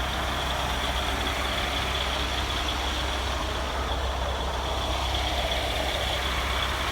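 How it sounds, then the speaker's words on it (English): A tractor engine drones steadily and loudly throughout, a continuous low rumble with no pauses and no voices. "Tractor at work."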